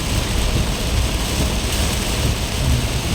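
Heavy rain pours down during a Bangkok downpour, heard from a car on the road, a dense, steady, loud roar that never lets up.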